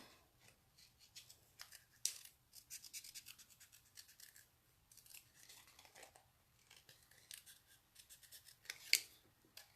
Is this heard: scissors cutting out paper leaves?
yes